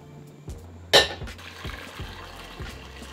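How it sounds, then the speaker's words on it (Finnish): Water runs into a pot to be set on to boil, starting with a sharp clank of cookware and then a steady splashing fill, close by and moderately loud, punctuated by a few soft knocks. "Sitten tällä välin vesi kiehumaan."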